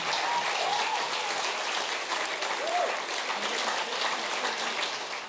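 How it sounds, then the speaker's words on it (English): Steady, sustained audience applause fills the whole stretch at an even level from a studio crowd on the RocKwiz music quiz show, with no voices standing out. "Round of applause."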